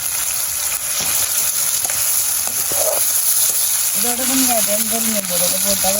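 Prawns frying in a pan, a steady bright sizzle running the whole way, with a voice speaking over the latter part.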